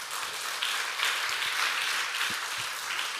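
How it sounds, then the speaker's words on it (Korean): A church congregation at a revival worship service gives sustained applause, a continuous wash of many hands clapping at an even level with no talk over it. "박수 한번 쳐드립시다"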